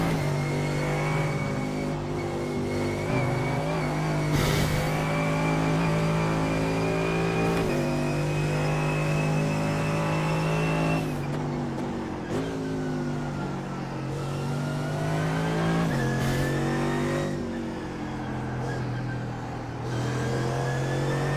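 A Mercedes AMG GT3 racing engine at the Nurburgring in iRacing, revving loud and close with repeated rises in pitch through the gears and sharp drops on each shift, alone with no talk.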